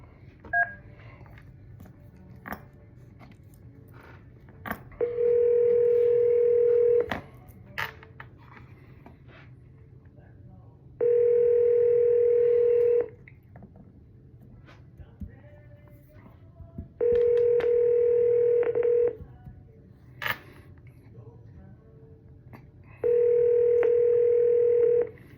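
A telephone ringback tone repeats in four long, evenly spaced bursts, each about two seconds, during outgoing cold calls, with faint clicks and background noise between the tones.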